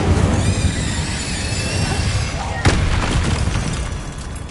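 A Confringo fire spell explodes in the game Hogwarts Legacy: a sudden booming burst midway rises out of a dense, rumbling game soundscape, with a voice heard earlier.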